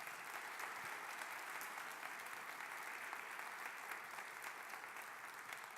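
A church congregation applauding a visiting guest: steady, dense clapping from many hands that fills the room evenly for several seconds with no pauses, at a moderate distance and without talk over it.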